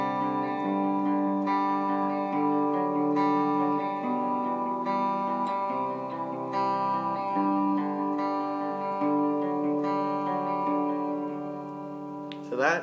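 A plucked guitar plays a steady instrumental riff of ringing chords, close and fairly loud, with a brief strum at the end.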